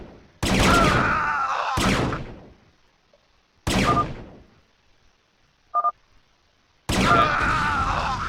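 Battlecruisers firing in a StarCraft match: loud, close bursts of weapon fire in three separate volleys, each cut off abruptly, with a short electronic blip between them and no talking.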